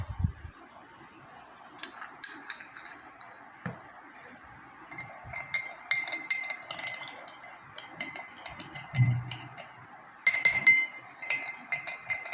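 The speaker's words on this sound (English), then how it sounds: "I am going to mix it till the salt dissolves in the water." A spoon clinks against a glass while stirring salt into water, quiet at first and then a quick, steady run of bright tinkling taps.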